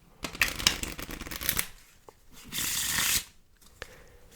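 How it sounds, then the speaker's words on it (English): A deck of cards riffled and shuffled up close, a quick burst of flapping card noise, a pause, then a second sustained riffle. "lose it in the middle of the deck. And we'll shuffle it for good measure."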